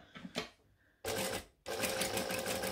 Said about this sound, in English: I do a bit of back stitching to make sure it's going to stay in place.